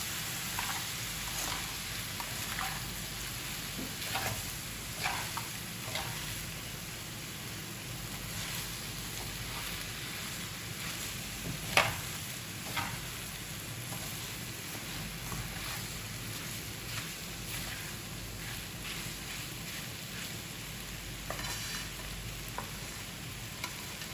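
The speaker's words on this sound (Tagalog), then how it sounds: "Tapos haluin lang natin ulit guys." Dinuguan stirred in a cooking pot, a soft steady sizzle and simmer with scraping and stirring sounds, close and fairly quiet, with an occasional sharper clink of the utensil.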